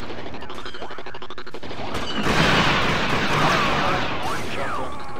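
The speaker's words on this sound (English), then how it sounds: "it's like a shotgun of some sort" Rapid gunfire from a shotgun-style weapon in the Star Wars Battlefront 2 Old Republic era mod, dense crackling volleys building to a loud sustained burst of shots and impacts, with faint talk mixed in.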